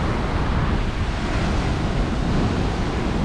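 Ocean waves breaking on a black sand beach at Puerto San José, Guatemala, a steady loud roar of surf with continuous broadband wash and some wind noise, no voices.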